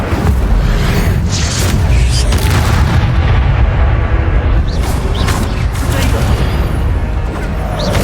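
A fire spell cast during a wizard battle in Hogwarts Legacy, a loud continuous roar of booming, crackling blasts that fills the whole stretch, with voices mixed into the din.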